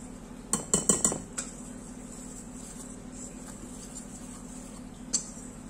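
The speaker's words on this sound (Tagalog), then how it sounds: "You use the whisker for mixing." A whisk rattles against a bowl while stirring banana muffin batter with chocolate chips, blueberries and nuts, giving a quick cluster of four or five metallic clinks followed by two isolated taps, close and clear with no talking.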